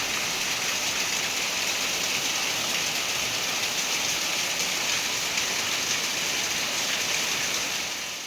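Heavy rain falling outside, a dense, steady hiss of drops on surfaces that holds unbroken and fairly loud throughout, with no voices.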